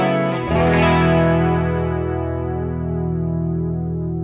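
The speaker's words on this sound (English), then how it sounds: "So this will be a deeper chorus sound." A guitar run through a Chase Bliss Warped Vinyl pedal set to a deep chorus, half wet and half dry: one sustained, shimmering chord that swells after a brief attack and then rings and wavers slowly as it decays.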